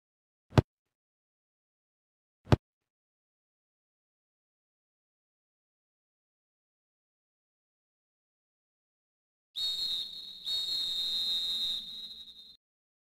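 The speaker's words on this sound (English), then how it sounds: "That's the whistle! Second half is finally starting!" A referee's whistle signals the start of a football match's second half: two sharp clicks, then a long shrill blast broken by a brief gap, loud and alone.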